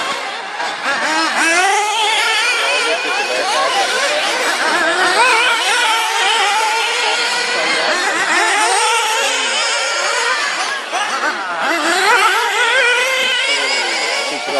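Several nitro-powered RC buggies race in an expert final at Bassecourt, their high, buzzing engines whining and revving continuously with overlapping pitch sweeps as they pass, loud and sustained over a faint commentator's voice.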